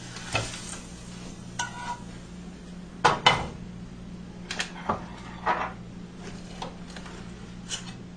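Sharp clinks of a utensil against a frying pan as an egg is flipped over a faint sizzle, with a few scattered scraping taps spread through the quiet kitchen.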